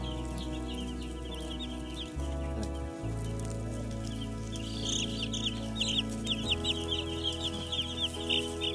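Broiler chicks in a heated brooder on their fourth day, a steady chorus of high peeping and cheeping that grows busier toward the end, heard over a constant low electrical hum.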